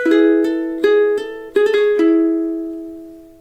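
Slow solo ukulele phrase from a riff: about eight evenly spaced plucked notes, close and clear, with the final note left ringing into a long fade.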